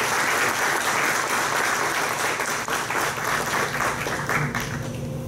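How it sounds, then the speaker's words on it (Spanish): Sustained applause from a seminar audience welcoming members of Peru's legislature, dense and steady clapping from a large crowd throughout, fairly close and loud. "me acompañen en ofrecerles un aplauso de bienvenida"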